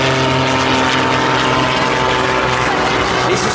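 An Extra 330 SC aerobatic propeller plane at the Biscarrosse air show, flown by the EVAAE patrol, gives a loud, continuous droning engine roar with a steady tone that stays close throughout.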